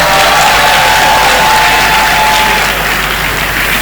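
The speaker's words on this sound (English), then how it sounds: "Please, let's clap for her." Loud, sustained applause from a large university graduation audience honoring the best graduating student, dense clapping with some cheering and whoops filling the space continuously.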